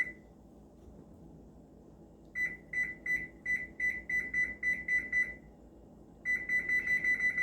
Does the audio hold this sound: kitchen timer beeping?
yes